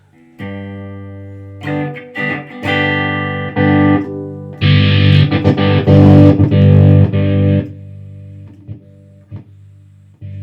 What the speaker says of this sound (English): There's a lot of crazy distortion I don't really use.